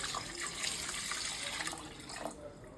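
Water runs steadily into a cooking pot with spiced vegetables for a Peshawari dish, a continuous close splashing pour without pause and no talking over it.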